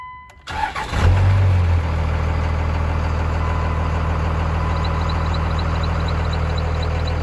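A 1999 Dodge Ram 2500 with the 5.9 Cummins diesel cranks briefly, catches and settles into a loud, steady, close-up idle that keeps rumbling to the end.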